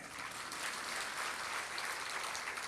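A large audience claps at a religious discourse, a dense, even roar of hands held steady from start to finish, no voices.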